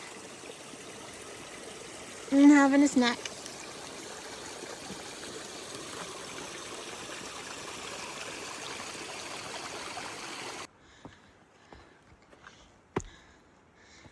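A mountain stream on the Appalachian Trail near Mount Moosilauke rushes steadily, a constant close water hiss with a brief spoken remark early on, before the sound abruptly drops away near the end.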